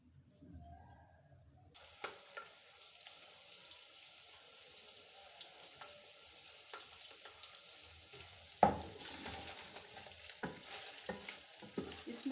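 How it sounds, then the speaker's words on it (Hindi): Chicken liver and cabbage frying in oil in a pan, a soft continuous sizzle broken by scraping stirs and clanks of a spoon, with a louder knock partway through and quiet near the start. "अब इस टाइम कलेजी के साथ हमने उसे फ्राई करना है।"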